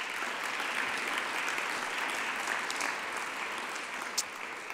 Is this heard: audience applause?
yes